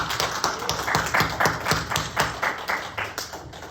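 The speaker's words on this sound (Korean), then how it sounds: "박수." Rhythmic hand clapping from a church congregation during a Sunday worship service, steady and fairly dense, roughly two to three claps per second across the whole stretch, with no talking over it.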